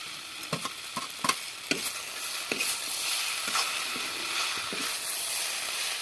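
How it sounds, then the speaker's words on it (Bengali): Cauliflower stems, greens and beans with spices fry in a pan, a steady soft sizzle broken by scattered clicks and scrapes of stirring, close and fairly quiet, without talk. "এবার সব সবজিগুলো থেকে আরও কিছুক্ষণ ধরে ভাজি দেবো।"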